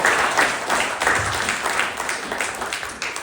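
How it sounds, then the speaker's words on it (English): An audience bursts into applause as a volunteer walks forward during a live show, a dense wash of clapping with rolling swells that gradually eases off toward the end. "Everyone give Blair a big round of applause as he makes his way forward."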